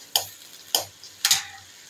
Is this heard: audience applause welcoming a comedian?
no